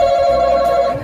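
A quiz buzzer that rings like a telephone bell sounds in a steady, loud, continuous trill lasting about a second, close by with no talking over it.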